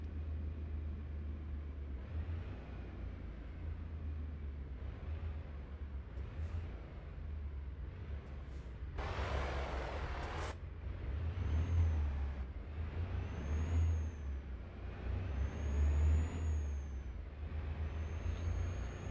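A Freightliner Cascadia semi truck, about 520 horsepower, driving in American Truck Simulator: a steady low engine rumble throughout, a sharp hiss of air brakes midway, and a few rising whines later.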